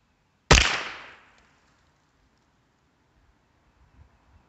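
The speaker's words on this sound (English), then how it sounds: "we're just going to take 5 shots down there and see what we can do with these" A single sharp, close shot from a Savage 62F .22 rimfire rifle firing Aguila Super Extra ammunition, its report decaying quickly into quiet outdoor ambience with faint small knocks afterward.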